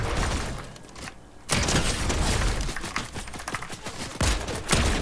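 Assault rifle fire in a video game crackles in fast, loud bursts of repeated shots, with a brief gap partway through, continuing densely to the end.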